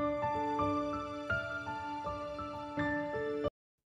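A self-made piano track plays quietly on its own, with a gentle stream of plucked notes over sustained lower tones, ending abruptly after a few seconds.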